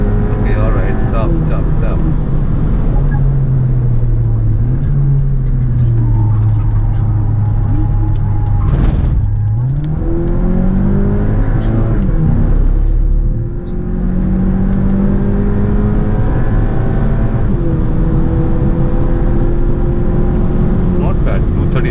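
Race car lapping Buddh International Circuit, its engine droning loud and close with rising and falling revs through gear changes, someone talking over it.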